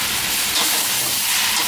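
A heap of home-style glass noodles being stir-fried in a pan gives off a loud, steady hiss that barely changes throughout.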